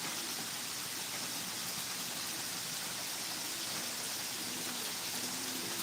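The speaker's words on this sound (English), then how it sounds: "Man, listen, the rain come down now." Steady rain pours down continuously, a dense even hiss of drops falling on surfaces with no pauses, fairly loud and close, with no voices.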